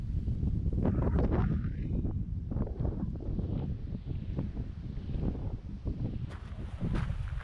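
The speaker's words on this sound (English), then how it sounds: "It's a bit blowy today, but nowhere near as windy as it could be" Steady gusty wind buffets the microphone on the coast path at Durlston near Swanage, Dorset, a constant low roar with rustling, and no voices.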